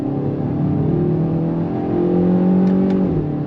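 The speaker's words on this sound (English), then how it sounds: "I do like the sound that you're getting inside the cabin." Inside the cabin of a 2023 Kia Forte GT, the engine pulls under throttle in third gear with a smooth, steadily rising drone, full and continuous, with no talking.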